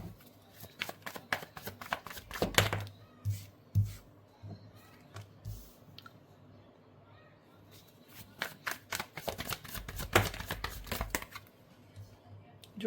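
Tarot cards being shuffled by hand at close range, giving bursts of crisp riffling and slapping clicks in two main clusters with quieter handling between, heard with no talking.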